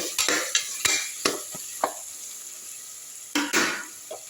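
Ginger and garlic frying over low heat in a pan, a quiet sizzle broken by a string of sharp spoon knocks and scrapes against the metal, spaced irregularly and close by.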